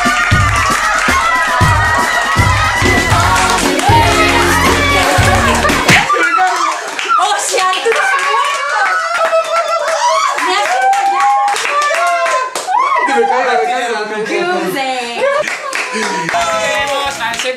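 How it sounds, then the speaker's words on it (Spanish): A group bursts into loud, close hand clapping and cheering to welcome a new member. Dense claps run throughout, with excited voices and shouts mixed in and a low rumble during the opening seconds. "Un aplauso para el nuevo."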